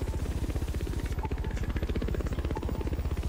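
A helicopter in the racing game The Crew 2 gives off a loud, steady rotor thump, a fast even chop with engine buzz that continues throughout.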